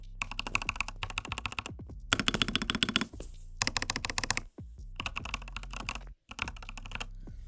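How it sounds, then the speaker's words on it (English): One-handed typing on an EPOMAKER TH80 Pro 75% mechanical keyboard with hot-swappable Budger switches: close, crisp bursts of clacky keystrokes in quick runs, separated by short pauses, with no talking. "let me go ahead and just kind of type out something with one hand, and hopefully you get an idea of how it sounds"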